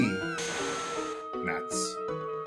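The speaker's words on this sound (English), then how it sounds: "Ooh, a kitty!" A cat meows in the video game Chrono Trigger DS, short game meows over background game music, with a voice talking in between.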